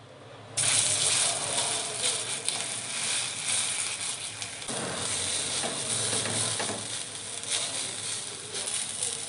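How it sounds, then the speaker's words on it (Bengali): Bean fritters (shimer bora) frying in oil make a loud, continuous close-up sizzle with dense crackling and a few scraping stirs, with no talk over it. "এই বড়াগুলো ভাজা হয়ে গেছে,"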